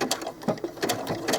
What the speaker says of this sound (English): And I'm just going to do one row of stitching.